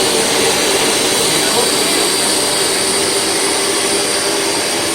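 A Bissell ProHeat 2X Revo carpet cleaner runs with its brush rolls spinning, giving a loud, steady, broadband motor and suction roar that holds unbroken throughout.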